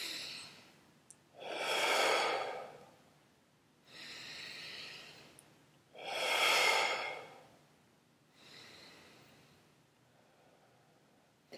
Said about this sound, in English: So we're going to take 3 deep breaths.